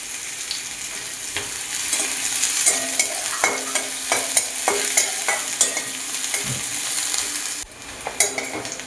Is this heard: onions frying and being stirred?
yes